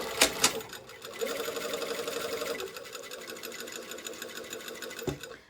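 A home sewing machine stitches a box around a tower sleeve placket, its fast steady whir running continuously for several seconds after a couple of brief clicks, with a short clunk near the end.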